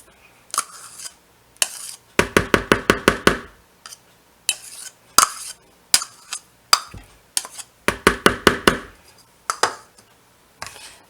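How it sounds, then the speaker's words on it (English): A pastry cutter clinks against a bowl while cutting shortening into a gluten-free flour mix. Sharp metallic taps come in quick rhythmic bursts with short pauses between, close and clear. "So you just want to cut this in to your shortening"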